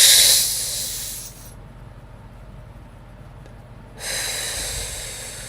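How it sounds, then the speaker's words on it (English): A slow, deep breath drawn in and let out during a guided breathing exercise, heard as a close, airy hiss that fades into near silence and then returns for the exhale, with no talking. "Take one deep breath in and one out."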